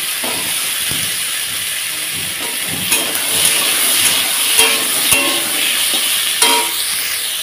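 Squash and potato pieces frying in a pan give a steady hissing sizzle at close range, with a few louder bursts and scrapes of stirring, no talk.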